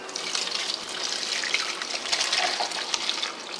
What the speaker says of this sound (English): using one of these strainers right here, just going to go in and pour it in